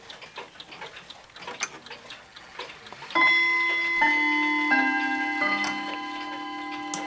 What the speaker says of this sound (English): Nice chimes for this clock